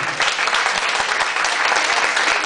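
Guests at a wedding reception at Villa Fiorita applaud the witnesses with a thick, even wash of clapping from many people, near and loud, holding steady for about two and a half seconds.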